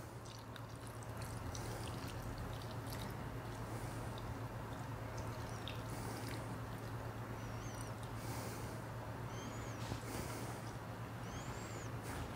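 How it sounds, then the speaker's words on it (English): Liquid pours and trickles steadily over chicken in a pan, close and fairly quiet, with a low background hum throughout. "I'm going to pour this over top of my chicken"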